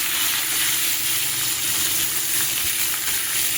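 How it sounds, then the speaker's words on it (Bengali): Pumpkin and potato hit hot oil already tempered with dried red chillies, giving a steady, close, loud hiss and sizzle that carries evenly through the short stretch with no talking. "এবার আমি এই ফোড়নের মধ্যে কুমড়ো আলুটা ঢেলে দেব।"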